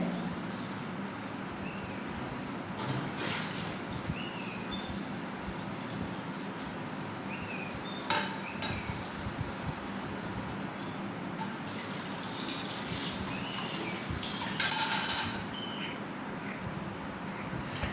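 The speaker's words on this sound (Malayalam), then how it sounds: "ഇപ്പോൾ പാത്രങ്ങൾക്കൊന്ന് കഴുകിയിട്ടെടുക്കട്ടെ" Tap water runs steadily into a sink while dishes clink and rattle intermittently, with occasional louder splashes.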